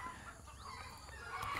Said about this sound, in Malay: Kuat pula bunyi angsa kat sini.